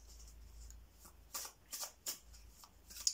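Tarot cards are shuffled in a quiet room, a few soft riffling bursts in quick succession, close and faint, ending with a sharper snap.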